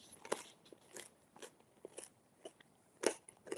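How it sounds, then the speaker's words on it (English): Crunchy bread bitten and chewed close to the mouth: a string of sharp crackling crunches, loudest near the start and again toward the end, with quiet chewing between them and no talk. "I just put a really crunchy bit of bread in my mouth"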